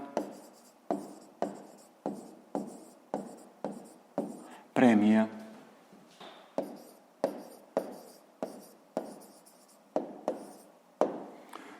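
A pen writes an answer in a notebook, making crisp, regular scratching strokes close by at a steady rhythm, briefly interrupted by a person speaking.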